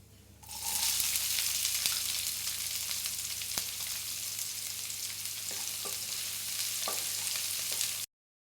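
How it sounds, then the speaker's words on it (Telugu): Onions, cumin and mustard seeds frying in oil in a kadai, a loud hissing sizzle that bursts in and holds steady with a few small pops and clicks, then cuts off abruptly. "అదే కడాయిలో ఇంకా కొద్దిగా ఆయిల్ వేసుకొని జీలకర్ర ఆవాలు అలాగే సన్నగా తరిగిన ఉల్లిపాయలు కూడా వేసి వేపుకోండి"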